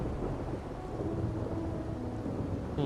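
Heavy rain and rolling thunder in the video game Wuthering Waves make a steady, dense rumble and hiss that fills the whole moment, with no speech.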